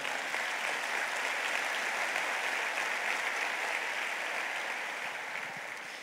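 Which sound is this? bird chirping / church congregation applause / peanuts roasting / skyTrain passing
church congregation applause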